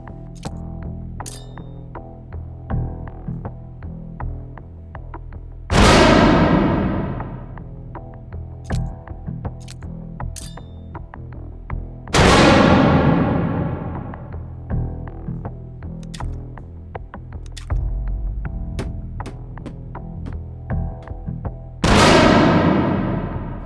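Grenades and gunfire in the VR shooter H3VR: sharp metallic clinks and clicks of handling, punctuated by three loud explosions at steady intervals, each with a long fading roar, no voices.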